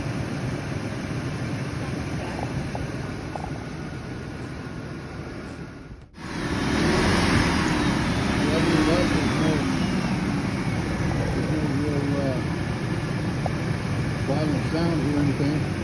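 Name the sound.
car engine idling, running on seven cylinders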